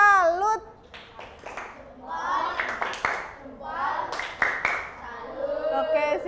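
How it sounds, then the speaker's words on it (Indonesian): A class of children gives a group a rhythmic salute clap after their presentation, with hand claps and taps mixed into young voices chanting and talking close by. "Kita beri tepuk salut."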